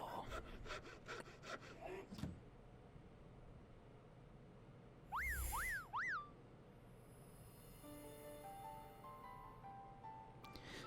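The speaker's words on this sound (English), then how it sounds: "With a chainsaw." A chainsaw saws in the video game Digimon Story: Cyber Sleuth, a steady gritty rasp under game effects, with a brief burst of rising electronic chirps midway and sustained synth tones toward the end.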